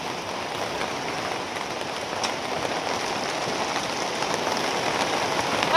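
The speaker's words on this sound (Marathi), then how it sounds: "पावसाने असा राडा केलाय." Unseasonal rain falls steadily on surfaces outdoors near onion fields, a dense even patter of drops with no letup and no voices.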